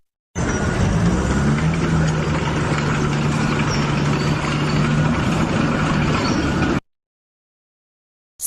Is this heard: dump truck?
yes